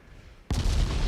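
Naval guns of a warship fire on enemy battleships in the strategy game Ultimate Admiral Dreadnoughts: after a quiet moment, one sudden heavy boom breaks out and rolls on as a loud, sustained roar.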